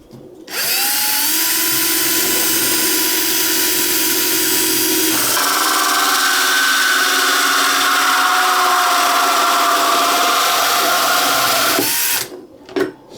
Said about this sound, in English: So I drill a hole in this little container.